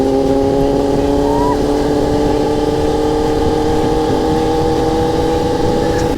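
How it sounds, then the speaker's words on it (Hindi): Superbike motorcycle on a ride, its engine holding a loud, steady high-revving drone with a slight pitch rise, up close and mixed with wind rush. "पीयूष को लेके जा रहा हूँ मैं सुपर बाइक की राइड पर"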